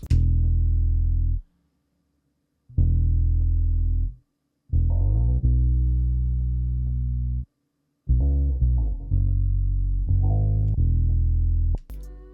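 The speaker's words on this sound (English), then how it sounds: "I added a bass guitar that I recorded using my bass guitar" Cheap bass guitar run through EQ and a compressor, lows and highs cut, playing a series of sustained notes in separate phrases with short silent gaps between them, clear and alone.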